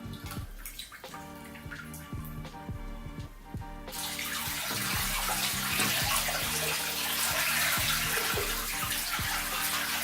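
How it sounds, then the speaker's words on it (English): Water pours steadily from a glass jug into a 30-gallon freshwater fish tank, starting as a bubbly, gurgling trickle and swelling after a few seconds into a loud, continuous rushing splash. "We are going to be filling up this tank with the rest of the water."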